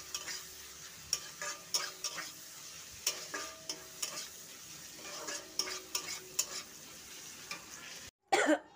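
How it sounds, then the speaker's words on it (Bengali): Onions frying into beresta for biryani, a close, steady sizzle broken by regular scrapes and clinks of stirring in the pan, no voices, with a sudden louder clatter near the end. "আর এখানে দেখো বেরেস্তা করছি, বিরিয়ানি দেবো বলে বেরেস্তা করছি।"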